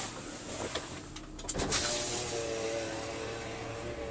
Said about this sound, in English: This is the window that I was talking about in the back that you could roll up and down